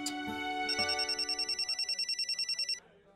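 A phone ringtone in a Hindi TV serial plays loud and close: a brief melodic intro, then a rapid, evenly pulsing electronic ring that stops abruptly.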